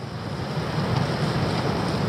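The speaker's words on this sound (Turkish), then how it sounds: "sağdan soldan havalandırmalardan e, aşırı rüzgar giriyor içeriye." Strong, steady wind roaring and buffeting through tent vents during a storm, a continuous broadband rush with low rumble, loud and close, no voices.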